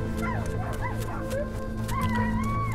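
A dog in the Die Young video game whimpers and yips in a run of high, wavering whines with short bark-like bursts, close and steady over a constant low ambient drone, with no talking.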